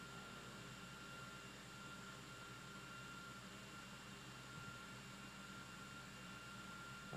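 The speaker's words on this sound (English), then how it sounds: "my PC does sound like an airplane engine because it's a Threadripper" Cooling fans of a Threadripper 1920X gaming PC roar steadily as a constant, even whoosh with faint tonal hum, continuous throughout and with no talk.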